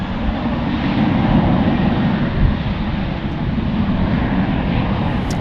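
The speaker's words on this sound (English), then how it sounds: "We've got our almost daily A380 on final." Airbus A380 airliner on final approach at Dallas Fort Worth airport, a steady broad jet roar sustained throughout, fairly loud and even with no voices over it.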